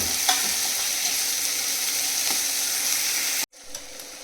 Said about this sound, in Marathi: त्यावर आपल्याला टोमॅटो परतून घ्यायचा आहे.